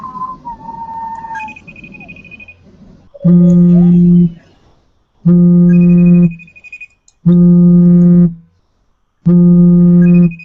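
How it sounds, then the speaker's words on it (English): A telephone rings in four long, evenly spaced electronic tones with sharp pauses between them. Before the rings, fainter sounds and a brief higher whistle-like tone come first, and no speech is heard over the rings. "I can hear your phone ringing"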